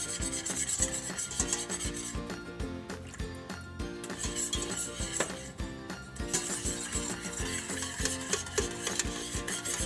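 A spoon stirs and scrapes a thickened flour roux in a pot on the stovetop for a macaroni and cheese sauce, making a steady, close rubbing and scraping sound with no talk.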